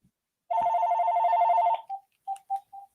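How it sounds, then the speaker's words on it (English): An office telephone rings with one long, steady electronic trill, followed by several short, evenly spaced beeps. The sound is clear and close, with no talk over it. "Hold on, they're calling the office phone here."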